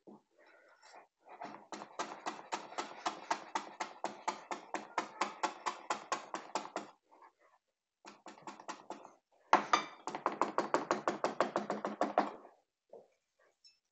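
Dill chopped with a cleaver on a cutting board: two long runs of rapid, rhythmic knocking strikes, close and crisp, with a short pause between them.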